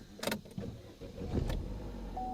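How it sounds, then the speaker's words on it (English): A car engine cranks and catches, settling into a steady idle after a few clicks and clunks, heard up close with no talking. "let's take a listen to the motor"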